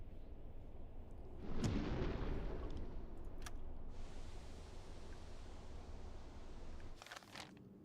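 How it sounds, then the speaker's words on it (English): A torpedo launched from a submarine in a naval video game, a sudden deep whooshing thump swelling out of a low hissing rumble, then a long fading rush with a few faint clicks. "First torpedo of the day."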